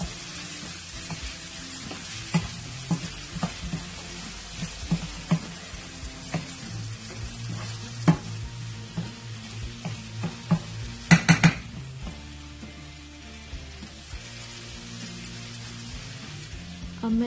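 Turai gosht with red chili crush being stirred in a pan: steady sizzle and frying hiss under repeated scraping and clinking of a spoon against metal, with a brief cluster of sharper clanks midway.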